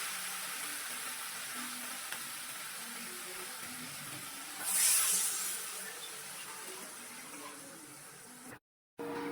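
Water poured into a pan of potatoes frying in ground spices, a continuous rushing pour with a brief louder splash and hiss midway, then a sudden cutoff near the end.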